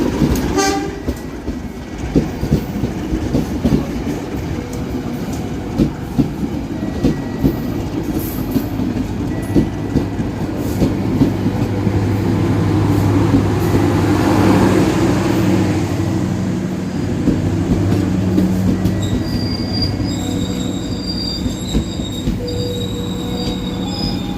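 Serayu train rolls past nearby with a steady rumble of wheels and sharp metallic squeals, short horn toots at the start and a louder swell midway, carrying on alone without talk.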